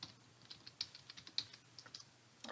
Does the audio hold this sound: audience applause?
no